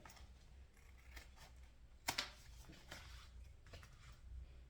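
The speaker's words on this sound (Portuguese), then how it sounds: "vamos refilar aqui e cortar essa sobra" Scissors trim excess synthetic material from a crossbody bag, with one crisp, close snip followed by a second quick cut amid a low steady room hiss.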